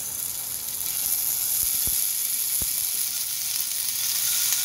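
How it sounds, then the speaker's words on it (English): Wagyu beef searing in a hot pan on high heat makes a loud, constant sizzle, broken by two or three sharp clicks or knocks, with no talking. "We got another sear."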